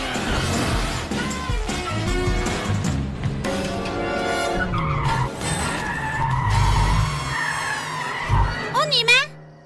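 Cartoon cat-shaped car skidding, with loud tire screeches and revving engine sweeps layered over music and a character talking, ending in quick squealing chirps.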